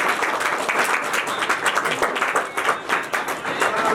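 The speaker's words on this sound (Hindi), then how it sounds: "तालियों से स्वागत करें, जोरदार तालियों से।" A sustained burst of loud applause from a crowd at a retirement farewell, dense overlapping claps continuing steadily throughout without pause.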